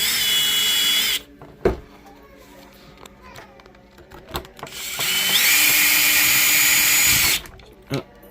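A power drill bores into a screw on a Super Nintendo controller, whirring loudly in two sustained bursts separated by quieter clicks and knocks of handling, close up, with brief talk between them.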